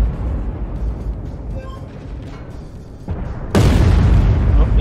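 A tank struck by a T-14 shell in a tank video game: muffled engine rumble and faint clanks, then a sudden loud boom of impact that keeps roaring to the end, with brief speech underneath.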